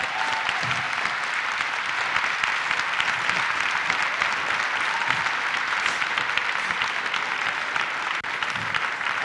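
An audience in a hall applauds a performer's mother, a dense, even wash of many clapping hands held at a constant level throughout.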